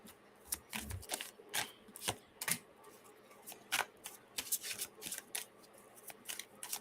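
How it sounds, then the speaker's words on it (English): Tarot cards are pulled one at a time from a deck, making a run of close, crisp snaps and slides at an irregular rhythm with brief pauses, and no voices over them. "I'm just going to pull 3 other cards from this other deck for you."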